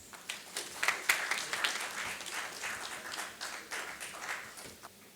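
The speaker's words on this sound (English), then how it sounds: "Please welcome them with a big round of applause." A conference audience applauds at an inauguration-session unveiling, fairly distant and soft, with distinct claps rising to a peak around the first second and continuing unevenly to the end.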